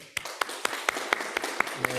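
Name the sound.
applause welcoming a newcomer to church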